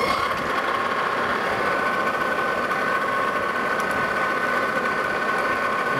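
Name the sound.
machine tool cutting a chamfer on a leveling screw foot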